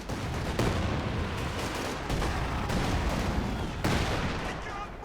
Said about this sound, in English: More mines going off there.